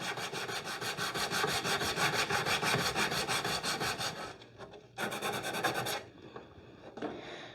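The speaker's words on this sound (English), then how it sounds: "So we're going to sand that off." Hard paint is sanded off a vintage Art Deco wooden chest of drawers in fast, steady rasping strokes, close and continuous for about four seconds, then a pause and a final burst of rubbing.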